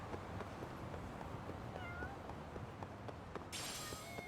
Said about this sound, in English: I hear the meow.